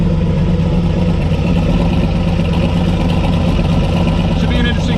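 A turbocharged drag-race El Camino with a huge turbo and open exhaust pipe idles loudly and close by in a steady, rough rumble with faint background voices.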